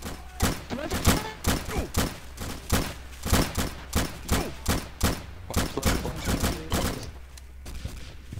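Rapid gunfire in a World War II video game set in 1944: a loud, steady stream of repeated shots in a regular rhythm, sounding close and continuous throughout.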